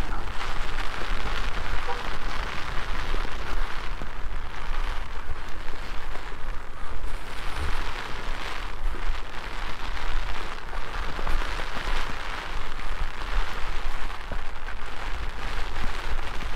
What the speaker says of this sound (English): Sure wish it wasn't pouring down rain.